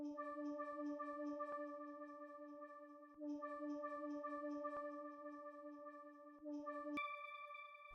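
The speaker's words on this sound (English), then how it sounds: "Then I added this weird arpeggio from Xpen. It's called Dream Arp." The Dream Arp synth preset from Xpen cycles through a sustained arpeggio, with steady tonal notes pulsing in a looping phrase that repeats twice before shifting to a higher chord near the end.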